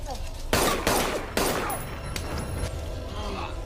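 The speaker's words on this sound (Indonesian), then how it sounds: "Adu senjata pun terjadi" Gunfire from a film gunfight: three sharp, loud broadband shots in quick succession, then a softer crack with lingering noise and a faint high tone, no talking.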